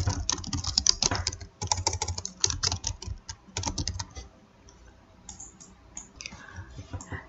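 A computer keyboard is typed on to enter a word in Silhouette Studio software: quick, close clusters of clicking keystrokes that thin out into a few scattered taps near the end.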